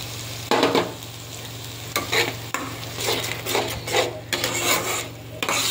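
Fish, katla by the title, being stirred and sautéed in a pan with a paste of cashews and sour yogurt: a steady mid-level scraping and stirring rasp with light sizzle beneath, in uneven bursts and no talk.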